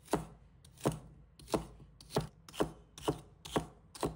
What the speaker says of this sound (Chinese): 再准备一根西芹，我们切小块。